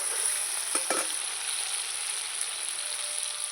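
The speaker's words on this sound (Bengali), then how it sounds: "এবার একটু নাড়াচাড়া করে নেব মাংসটা" Mutton frying in a pan as it is stirred, a steady close hiss of sizzling with a couple of brief scraping strokes near the start, no talk.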